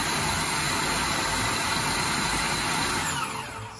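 A food processor mincing turkey meat runs with a loud, steady whirring drone, then begins to wind down near the end.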